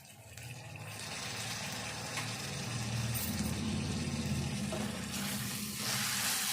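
Dal (lentils) frying in a pan before tomato goes in, a steady, dense sizzle that holds throughout with faint stirring textures and no voices.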